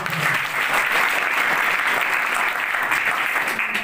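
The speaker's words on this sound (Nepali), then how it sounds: "तपाईहरुबाट पनि एउटा ताली बजाएर स्वागत गर्छु" An audience at a drug abuse awareness event in Nepal claps to welcome a police superintendent, a thick, sustained round of applause that stays loud and even from start to finish, no voices heard.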